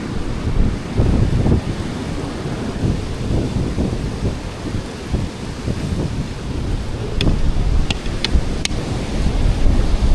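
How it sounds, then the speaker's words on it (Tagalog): Heavy surf roars and crashes continuously on the coast of Bataan, a loud wash of breaking waves mixed with strong wind buffeting the microphone, with a few sharp clicks near the end. "lakas ng alon. Sumasalpak talaga"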